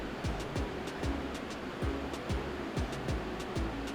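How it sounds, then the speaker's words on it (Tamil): Water boils hard in an idli steamer pot on a stove, giving a steady rushing bubble with soft, regular tapping pulses throughout. "அடுப்பில் இட்லி பானையில் தண்ணி நல்லா கொதிக்க ஆரம்பிச்சிருச்சு."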